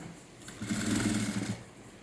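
A sewing machine stitches a patchwork blouse worked with woollen thread, running in one steady, close burst of about a second after a short quiet start and then stopping.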